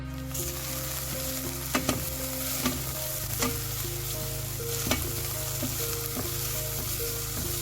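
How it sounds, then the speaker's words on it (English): Eggplants fry in cooking oil with a steady, continuous sizzle and a few soft clinks from a utensil, with no voices. "Fry the eggplants until they are all soaked in cooking oil and a bit soft"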